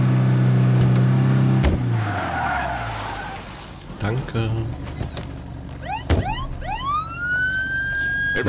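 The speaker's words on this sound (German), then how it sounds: "Hast du gerade Sirene an?" A wailing police siren in the video game State of Decay 2 sweeps up repeatedly over engine noise and tire skids, loud and close, with a voice talking in German at times.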